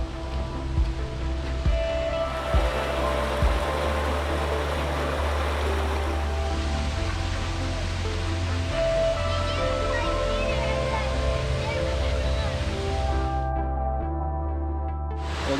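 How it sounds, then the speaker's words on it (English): Grizzly Falls in Kings Canyon National Park roars as a steady, loud rush of falling water, a constant broadband wash that holds throughout, with people talking faintly in the background. "Well, that is a spectacular waterfall."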